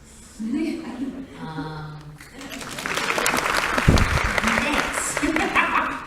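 A comic convention panel audience breaks into applause after a voice is heard talking, a broad wash of clapping from a crowd that builds and carries on for several seconds.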